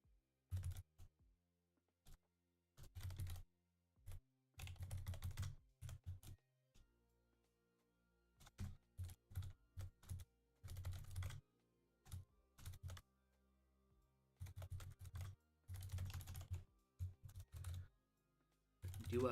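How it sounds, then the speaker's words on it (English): A computer keyboard is typed on in bursts of quick, close clicks separated by short pauses of near silence. "Do keyboard sounds count as avoiding dead air?"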